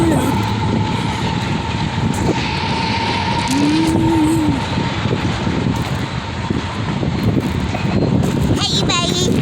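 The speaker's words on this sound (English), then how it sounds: "Train is coming, guys." A Union Pacific stack train led by locomotive 8233 rolls past in Sacramento, California, a steady broad rumble with a sustained horn-like tone, while people talk and a voice rises over it near the end.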